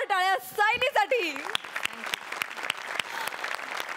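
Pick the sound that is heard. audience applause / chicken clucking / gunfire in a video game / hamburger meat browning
audience applause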